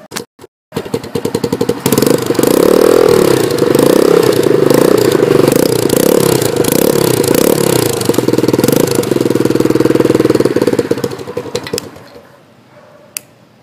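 A 2009 Janshi underbone motorcycle engine catches and runs loud and close for about ten seconds, a steady rough mechanical drone with rhythmic clatter, then cuts off into near silence with a faint click afterward.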